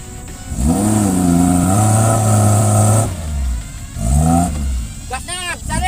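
A car engine revs up and holds high, drops, then surges again in a second rising rev, loud and near, with voices calling out over it.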